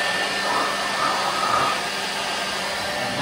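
A common leaf blower runs steadily and close by, giving a continuous loud broadband whoosh of rushing air with no talk over it.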